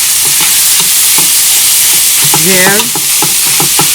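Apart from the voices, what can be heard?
soya granules frying and sizzling in pan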